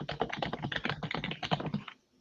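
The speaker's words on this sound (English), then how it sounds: "I stopped typing there." Fast, close typing on a computer keyboard, a dense run of clicking keystrokes that stops abruptly after about two seconds.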